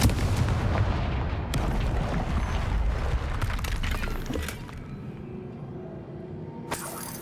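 A Confringo fire spell in the Hogwarts Legacy video game fires with a loud, rumbling explosive blast that roars for several seconds and then dies into a lower tail, followed by a sharp crack near the end.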